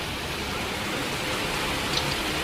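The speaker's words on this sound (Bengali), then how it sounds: "দেখো ঝিরিঝিরি করে বৃষ্টি" Light drizzling rain falling on a hot, sunny day, a soft steady hiss of fine drops, even and continuous throughout with no talking.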